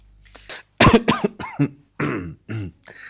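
A man clears his throat several times in quick, rough bursts, close and loud, the harsh rasps separated by brief pauses with no speech.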